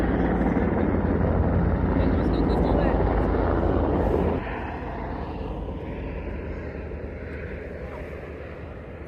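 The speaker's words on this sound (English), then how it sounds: "you might have to settle for a helicopter sighting instead" A Coast Guard helicopter on patrol passes along the coast at Cape Lookout in Tillamook, Oregon, its steady broad rotor and engine roar loud for several seconds, then dropping to a quieter continuous drone as it moves away.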